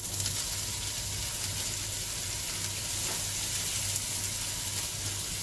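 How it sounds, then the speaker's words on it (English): Onions sweating in a pan for a pulled beef sandwich, a steady broadband sizzle holding at an even level throughout, with a low intermittent hum beneath it and no voices. "I'll be putting the onions in, sweating it a bit"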